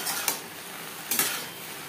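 A utensil scrapes through okra with salt and turmeric in a pan, two short metallic scrapes about a second apart over a faint background hiss, close by.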